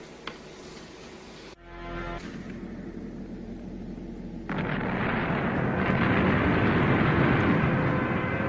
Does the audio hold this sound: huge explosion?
yes